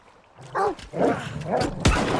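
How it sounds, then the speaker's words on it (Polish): Dogs bark in S.T.A.L.K.E.R. 2 near swampland, giving three or four separate yelping barks spread across the moment, with a sharp thud near the end. "słyszę pieski"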